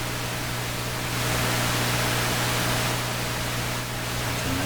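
Steady hiss of white noise from a Heathkit AJ-11 mono receiver tuned on its FM side between stations, continuous and even with a faint low hum beneath, no voices.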